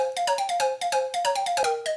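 Dry synth flute playing a short rhythmic melodic line with no delay effect, clear, up close and alone, each note distinct with no echo trailing behind.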